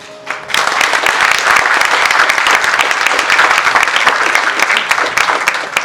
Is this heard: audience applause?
yes